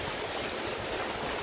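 Floodwater rushing through a village in Balasore, a steady, dense broadband wash of flowing water, close and continuous with no pauses or voices.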